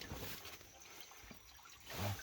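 Water trickles and splashes at a waterfall in Costa Rica, a faint, steady broadband wash close by with a slightly louder surge at the end.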